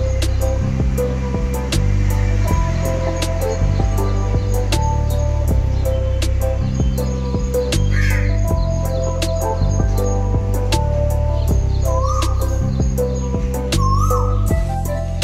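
An Asian koel calls outdoors, its few short calls faint and far behind the steady drone and ticking of a moving motorbike.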